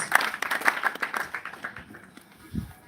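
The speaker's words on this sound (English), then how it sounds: "maybe another round of applause for the whole community behind these 10 scholars" A small gathering honoring ten scholars and their community claps, with a few sharp, close claps at the start thinning out and fading to scattered taps and quiet by the end.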